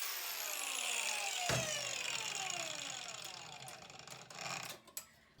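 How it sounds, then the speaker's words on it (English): An angle grinder cutting stainless steel for a phone holder build gives a high metallic whine that winds down in falling pitch sweeps, then rattles and clunks briefly near the end. "We need some grinder sparks."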